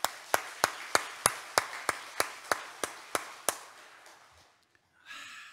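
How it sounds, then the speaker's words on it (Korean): A church congregation claps in unison about a dozen times in a steady rhythm. The claps are loud and sharp, then fade into quiet murmuring. "박수 한번 치겠습니다"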